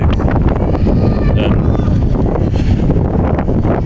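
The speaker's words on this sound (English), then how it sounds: "it's very windy right now" Strong wind buffets the microphone in a constant loud roar, with faint voices and other sounds barely showing through.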